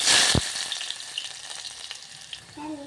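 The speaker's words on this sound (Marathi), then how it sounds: "मोहरी तडकली आता टाकते मी जिरं जिरं मोहरी तडकलेली आहे टाकते इथं कांदा कट करून घेतलेला" Mustard seeds crackling and spluttering in hot oil, followed by chopped onion frying, while preparing a Marathi stuffed bitter gourd curry; a loud burst of popping at first, then a busier sizzle nearby, with no voices.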